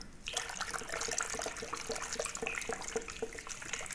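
The rest of a liquid is poured into a homemade fabric whitener mixture, a continuous splashing trickle that starts abruptly and runs steadily for several seconds, fairly quiet and close, with no talk.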